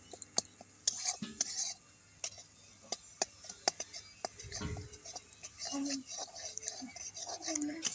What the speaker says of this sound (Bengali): এভাবে নেড়ে চেড়ে ভালো করে কষিয়ে নিতে হবে।